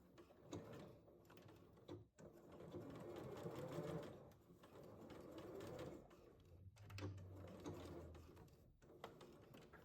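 A sewing machine stitches fabric for a beginner's wrap skirt, running in quiet rapid bursts with brief pauses and soft mechanical clatter close by, no talking.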